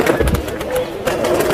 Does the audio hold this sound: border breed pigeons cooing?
yes